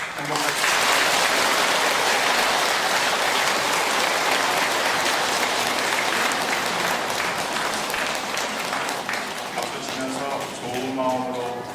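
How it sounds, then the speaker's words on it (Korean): A Catholic congregation at a New Year's Day Mass breaks into dense, sustained applause as a greeting, a full roomy wash of clapping that holds steady and thins slightly toward the end as voices begin. "우리 서로 인사 나누는데 뭐 박수로서 인사할까요?"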